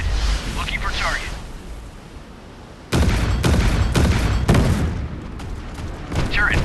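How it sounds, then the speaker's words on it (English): Warship missile strike in a naval combat video game, with a sharp booming launch followed by heavy rumbling detonations and crackling bursts, loud and close, while a voice speaks in between. "Initiating missile strike."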